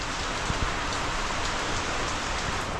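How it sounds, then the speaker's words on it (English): Steady rain falls outside a sheltered workspace during a carbon fiber jet ski build, producing a continuous hiss with scattered faint drop patters throughout, even and unbroken from start to finish. "Of course, it's raining."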